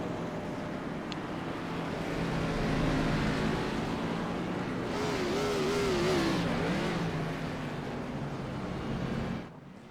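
A race car at Five Flags Speedway does a burnout after winning a Gen 6 series race. The engine revs hard and steadily for about nine seconds, rising in the middle, then stops abruptly near the end.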